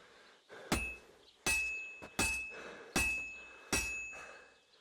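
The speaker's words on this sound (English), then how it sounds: "You've got to hammer the workpiece evenly." In the Kingdom Come Deliverance 2 video game, a hammer strikes a sword workpiece on an anvil. There are five loud, ringing metallic blows spaced roughly half a second to a second apart, each with a lingering bright ring.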